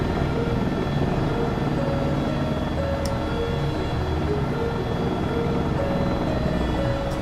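An AS350 B3+ helicopter flies in the X-Plane simulator, its steady rotor and turbine drone holding loud and unbroken throughout, with no talk over it.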